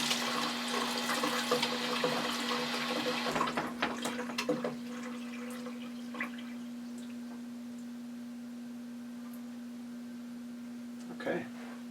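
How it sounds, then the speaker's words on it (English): Brewing equipment being rinsed with water, running water splashing for the first few seconds, then fading into a quiet room with a steady hum and a few faint clinks. "Give it a rinse here."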